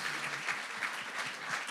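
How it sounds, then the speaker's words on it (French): Brief, faint applause from a church congregation, a soft continuous patter of hands clapping at a distance. "On peut l'applaudir, il est sage."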